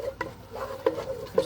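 Flour is stirred around a frying pan for turkey gravy, with soft scraping strokes and a faint sizzle. A few sharper utensil taps on the pan stand out, quiet and close.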